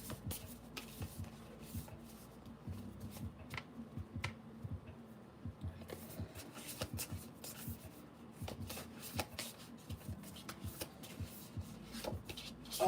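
A brand-new, slippery deck of cards being shuffled, with soft riffling and rubbing sounds repeating at close range across the clip, quiet and steady with no talking.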